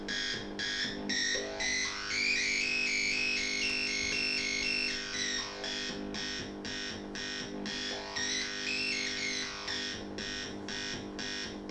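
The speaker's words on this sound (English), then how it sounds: "the way the filter works is it's a low pass filter" Synth tone from a live-built circuit run through a low-pass filter, swept up and down; a buzzy, pulsing sound whose brightness rises and falls twice, fairly quiet and heard alone.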